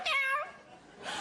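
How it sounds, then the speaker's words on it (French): A single clear meow from a nearby cat, drawn out and tonal, followed by a brief fainter breathy sound. "c'est mon chat"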